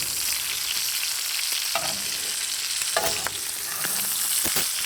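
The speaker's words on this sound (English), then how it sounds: "while you're basting this with this hot butter and bacon liquid, it's also gonna help crisp all the rest of the outside of your bacon" Hot butter and bacon fat sizzle loudly in a cast iron pan as bacon-wrapped filet mignon is basted. A continuous close frying hiss is broken by several sharp spoon clinks and splatters, and no voices are heard.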